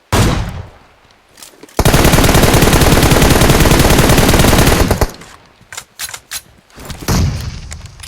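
Automatic gunfire in the mobile game PUBG Mobile: one loud, sustained rapid-fire burst lasting about three seconds, followed by scattered single shots and softer bangs.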